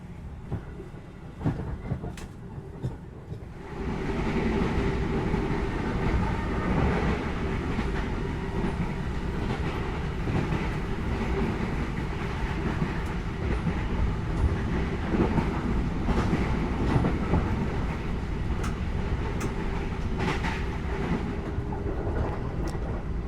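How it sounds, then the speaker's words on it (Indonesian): Inside a passenger train running fast at about 110 km/h on the Solo to Cirebon line, a loud, continuous rumble with rail clatter and faint rattles fills the carriage and swells after a quieter opening moment. "Udah lari ngebut lagi keretanya."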